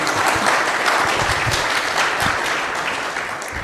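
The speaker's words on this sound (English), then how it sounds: "Round of applause for Sydney." Sustained applause from a crowd, steady clapping throughout at a fairly loud level, with no talking.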